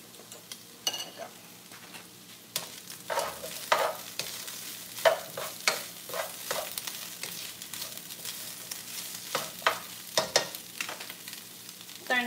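Egg with a little milk is stirred in a hot pan, a soft sizzle under repeated scraping strokes of a utensil that come in irregular bursts, close up, with no one talking.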